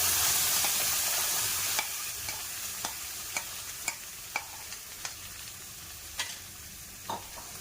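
A spoon stirs a ground onion and tomato paste in a hot pan, and the paste sizzles steadily. Sharp scraping clicks of utensil against metal come at a loose, regular rhythm, close by and with no voices.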